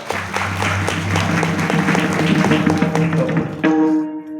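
Applause from a village kirtan audience at Pathardi, a crowd of many hands clapping steadily and fairly close, swelling and then tapering off near the end as a musical tone enters.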